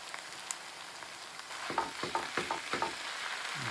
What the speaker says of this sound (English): we get our lamb and our thinly sliced chilli and put that straight in together